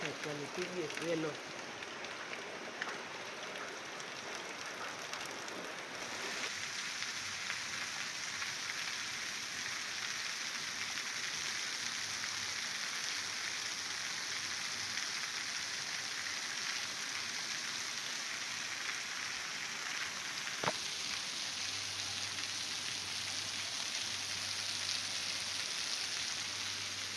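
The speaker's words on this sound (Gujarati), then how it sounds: "આજ તો સવારમાં વરસાદ ચાલુ થઈ ગયો વહેલો" Steady morning rain falling outdoors, a continuous even hiss of drops on surfaces that holds at a constant level throughout, with faint voices early on.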